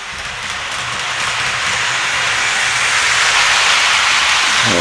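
A loud, close hissing whoosh builds slightly and holds steady, like a small locomotive running at speed, from a PIKO model train with a BR 119 locomotive.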